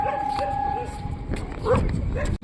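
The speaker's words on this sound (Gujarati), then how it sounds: "જો આને ભાઈબંધુ કેટલા લઈને આવ્યો જો ગલુડિયા" Puppies at a railway station yip and whimper in short high cries close by, mixed with people talking and general platform noise.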